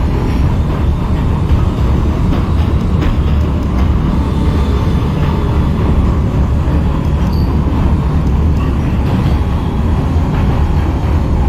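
An NYC Subway R160 F local train in the OpenBVE simulator rumbles steadily with a dense low roar and faint rail clatter, continuous and loud throughout, with no voices.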